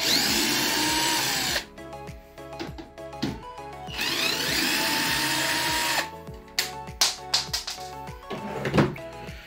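A power screwdriver backs out the screws holding a washing machine's panel, whirring loudly in several bursts separated by quieter clicks and handling noises, close up.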